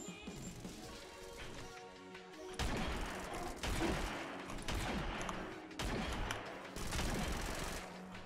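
In the Tower Unite gun game on the Meadows map, dense gunfire, including close-range SMG bursts, comes as loud sustained bursts of crackling shots broken by brief pauses.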